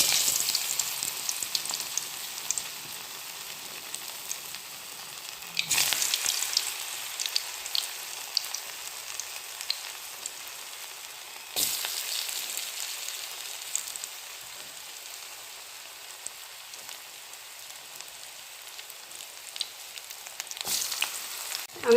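Tapioca pieces frying in hot coconut oil give off a steady, close hiss and crackle with no talk, and three sharper bursts of sizzling flare up at intervals as more pieces drop in.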